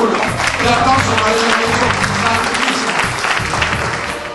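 Audience applause at a live magic show, a dense continuous wash of clapping from a crowd that holds steady and loud before tapering slightly at the end.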